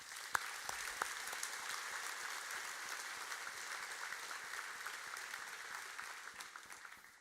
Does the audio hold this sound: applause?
yes